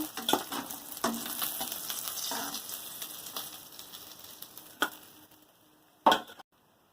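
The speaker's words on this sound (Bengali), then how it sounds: "উল্টে পাল্টে ভেজে নেব" Pabda fish fry in oil in a pan, a soft, steady sizzle with a few scattered clinks and scrapes of turning, fading toward silence at the end.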